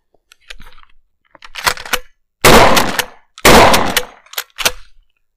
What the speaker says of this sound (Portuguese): Eu vou efetuar os disparos.